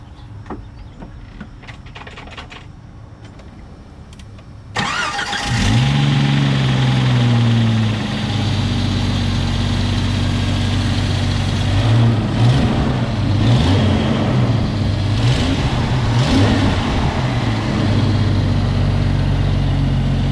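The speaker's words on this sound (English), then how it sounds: "First start up in 6 months, cranked over right away." 1995 Jeep Cherokee XJ starting for the first time in six months: quiet ticking background, then the engine catches at once and runs loud and close, with a steady low rumble and several short revs rising and falling.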